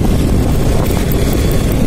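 Motorcycle riding along a rural road toward a small farm amid soybean fields, a steady close engine drone mixed with wind buffeting for a couple of seconds.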